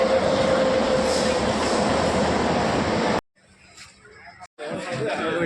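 A train rolls through T. Nagar railway station in Chennai, a loud continuous rumble of carriages and wheels with a brief squeal, then a sudden drop to quieter platform noise before the din returns, with people chattering underneath.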